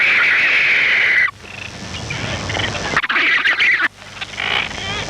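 Frigate bird chicks on Christmas Island, Indian Ocean, give loud, nasal begging calls, a steady squawking run broken by brief pauses, with more calls close by.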